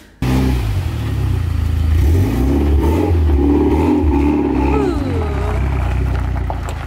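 A Mitsubishi Evo 10 engine roars to life close by and keeps revving loudly for nearly seven seconds, the pitch rising and falling as the car pulls away.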